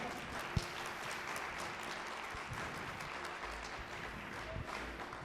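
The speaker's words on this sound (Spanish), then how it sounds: "Dale un aplauso." A church congregation claps together in a steady, even patter at moderate distance, sustained throughout with occasional louder individual claps and low rumble beneath.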